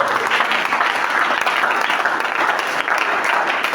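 A church congregation applauding: dense, continuous clapping from many hands, loud and sustained without a break, filling the room.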